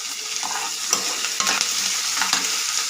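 Onions and curry leaves frying in a pan, a steady bright sizzle with intermittent stirring scrapes and small spatters, close up and without talking.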